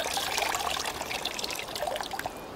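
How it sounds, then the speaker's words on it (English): Water trickles and drips steadily from a wet sponge being squeezed, a close, continuous splashy dribble lasting a few seconds with no talking. "But if I give it a squeeze,"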